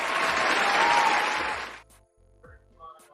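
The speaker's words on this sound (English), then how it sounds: "can you give them a hand clap for me, please?" A burst of dense audience hand clapping at an appreciation show, loud and full for about a second and a half before cutting off abruptly, followed by brief faint sounds and a short voice.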